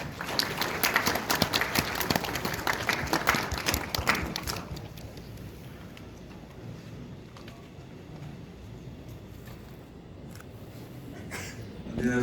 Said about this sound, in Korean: 동문회장님을 큰 박수로 맞이해 주시기 바랍니다.